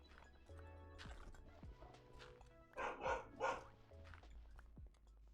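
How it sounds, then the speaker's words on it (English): Neighbor's dogs bark in a few loud bursts, sharp and excited, over a quiet background with a steady low tone. "the neighbor's dogs are losing it"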